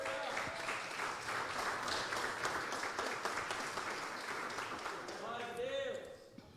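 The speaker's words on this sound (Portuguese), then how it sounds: "Você pode aplaudir a Deus por isso," A church congregation applauding, dense sustained clapping from many hands across the room that fades near the end, with some voices and cheers mixed in.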